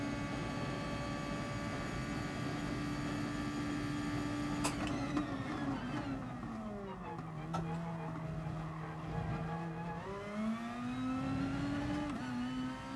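Racing car engines in GT Sport roar close and loud, the pitch dropping through a braking zone, then climbing again under acceleration, with tire noise mixed in and no voices.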